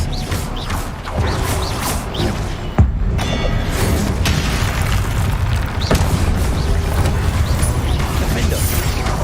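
Spell combat in the wizarding video game Hogwarts Legacy, with an Expelliarmus cast amid repeated booming impacts, crashes and thuds over steady game noise, with a sharp hit near the start.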